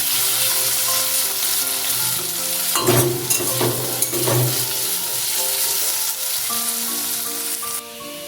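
Potato pieces cut for frying sizzle steadily in hot oil with salt and turmeric for a Bombay duck curry, with a few louder stirring scrapes in the middle and the frying continuing alone throughout.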